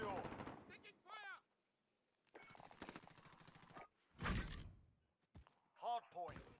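Gunfire in a Call of Duty Hardpoint multiplayer match: several sharp bursts and loud impacts come in uneven clusters, mixed with game radio callouts and player voices.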